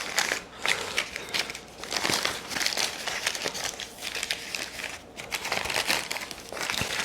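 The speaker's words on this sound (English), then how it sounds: "Then here's where the parchment comes in." Parchment paper crinkles and rustles as it is pressed on top of a docked tart shell, a close, irregular series of crackling bursts with brief pauses, no talking.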